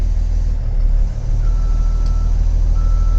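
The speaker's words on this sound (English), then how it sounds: "You shift into reverse and you feel the transmission engage, and then the alarm goes on." Reversing alarm on a 2011 Thomas Saf-T-Liner C2 school bus, a steady repeating beep heard from inside the cab over the low rumble of the idling diesel engine.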